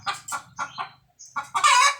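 Farm chickens cluck nearby in a quick run of short, choppy notes, pause briefly, then break into a louder, drawn-out squawk.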